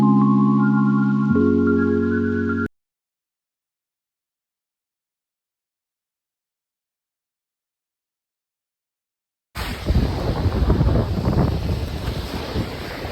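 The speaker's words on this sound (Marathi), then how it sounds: "आये पाण्याची लाट आली" Ocean waves surge and wash onto Alibag beach in a loud, broad rush of surf and wind, heard after a short tonal jingle and several seconds of silence.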